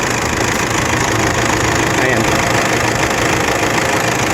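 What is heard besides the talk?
2015 Toyota Fortuner Black Series engine idling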